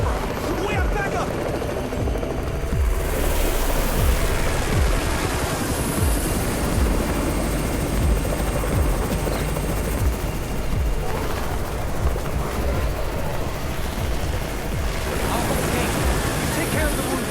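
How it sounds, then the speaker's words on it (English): A helicopter arrives in the zombie survival video game Undawn, a loud, continuous rotor roar with broadband rumble holding throughout, with intermittent shots and other battle noise mixed in. "It's the Raven's chopper! We have backup!"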